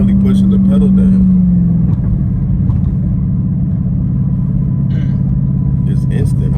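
A car engine fitted with a Pedal Commander throttle controller rumbles and picks up speed from inside the cabin, responding quickly to light pedal pressure. A voice talks over the engine noise.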